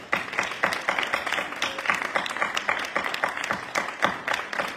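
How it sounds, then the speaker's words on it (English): A congregation at a Wednesday Bible study claps their hands in a steady, rhythmic beat of sharp, evenly spaced claps that keeps going throughout. "Clap your hands, give God praise"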